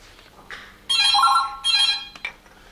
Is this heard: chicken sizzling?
no